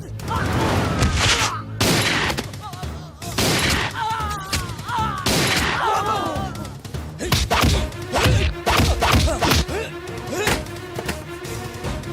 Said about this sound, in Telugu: అక్కడ కాల్చు.